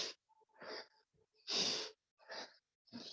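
A man imitates heavy asthmatic breathing with a series of harsh, wheezy breaths and gasps, fairly close, with short gaps between them.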